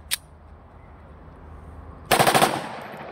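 Zigana 2 TT 30 bore pistol fired from its second magazine: a faint single crack near the start, then a loud rapid burst of several shots close by, tailing off into room noise.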